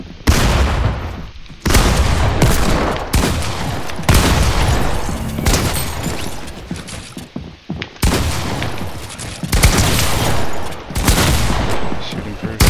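Video game gunfire in a team fight, loud and close, with dense bursts of rapid shots and booms that break into several volleys separated by short gaps.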